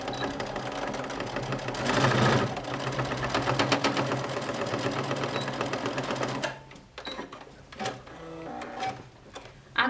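A sewing machine stitches a fabric seam on a boxy zippered cosmetic pouch, running in a steady dense whir for several seconds, then breaking into short irregular bursts and taps at close range.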